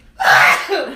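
One person lets out a single forceful sneeze, a short, loud, close burst that trails into a brief breathy tail.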